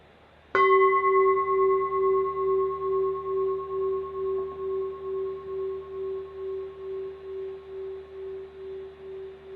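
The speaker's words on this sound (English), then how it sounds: "listen to this sound of the bell all the way to its vanishing point" A meditation bell struck once, ringing with a clear sustained tone that pulses gently as it slowly fades toward silence over several seconds, in a quiet room.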